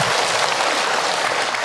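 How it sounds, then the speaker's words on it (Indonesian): A crowd at an Islamic religious talk claps steadily and densely throughout, a continuous wash of applause with no voices standing out. "tepuk tangan buat Ibu Subiati juga ya"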